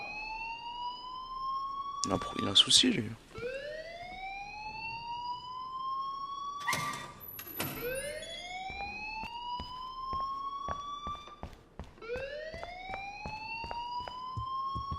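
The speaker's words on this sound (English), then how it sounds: "please turn off that alarm since that's your job" A rising and falling electronic alarm wails repeatedly inside a school in the video game Life Is Strange, each sweep climbing in pitch, with sharp bursts in between and someone speaking French briefly over it.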